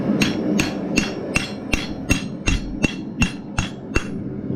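Ten steady hammer blows drive a rivet into repurposed side cutters being turned into blacksmith scrolling pliers, sharp metallic strikes at an even rhythm, close and loud over a low background hum.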